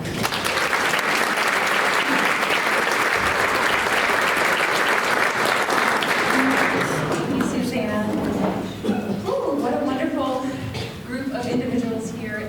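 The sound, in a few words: audience applause for Courtney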